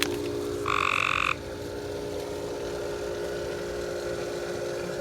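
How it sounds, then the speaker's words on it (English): A single short frog croak by a swimming pool, a buzzing trill lasting under a second, rises above a steady humming pump-like background drone. "We gotta find this frog."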